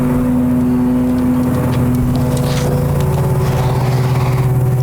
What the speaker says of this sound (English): Excuse the noise, the boys are here mowing,